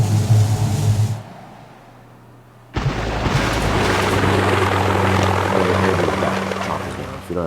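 Helicopters flying in the Boom Beach strategy game, a loud steady rotor drone that drops away briefly after the first second, then returns fuller and busier with layered game effects for the rest, no talking.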